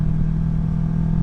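Kawasaki Vulcan 650 S motorcycle engine under acceleration, a steady, loud, rumbling exhaust drone with a constant low hum and no talking.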